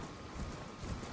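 Horse hooves clip-clop steadily as the mount is ridden in the Elden Ring video game, a rapid, even rhythm under a dense layer of game ambience.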